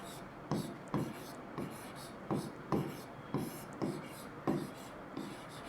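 Chalk or marker strokes on a board while working a maths problem, a steady series of short taps and scratches at an even pace, close and fairly quiet with no talking.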